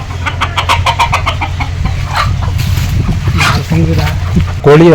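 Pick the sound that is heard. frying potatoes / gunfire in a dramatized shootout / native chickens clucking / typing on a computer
native chickens clucking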